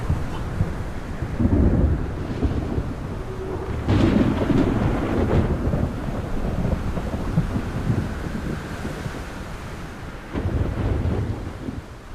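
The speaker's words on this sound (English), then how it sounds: "Got to ride this storm out." A thunderstorm with rain at sea, with rolling rumbles of thunder swelling and fading over a constant roar of wind and rain, loud and close, with no talking.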